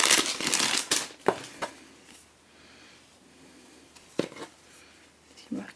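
An Owlcrate subscription box being opened, its packaging crinkling and rustling in a few sharp bursts with quiet gaps between them, while a person talks.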